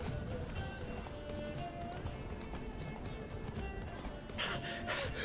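Roach, Geralt's horse in The Witcher 3: Blood and Wine, gallops in a steady clip-clop rhythm beneath dense game music and ambience, hooves moderately loud and continuous throughout.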